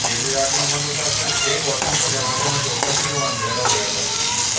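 Beef liver (kaleji) seasoned with crushed and ground chili fries in a pan with a dense, continuous sizzle and crackle while a person talks over it.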